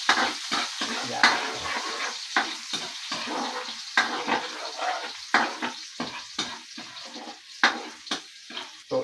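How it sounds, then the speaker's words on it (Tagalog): Garlic fries in a pan for adobong sitaw, a steady sizzle punctuated by repeated scraping stirs and clinks of a utensil against the pan, close and moderately loud. "So i-brown natin ng konti yung ating bawang para mabango."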